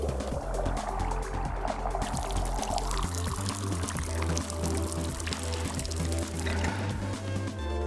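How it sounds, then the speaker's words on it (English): Liquid is poured out in the video game Wanderstop, a continuous splashing stream running for several seconds over a low background tone. "let's pour this all out."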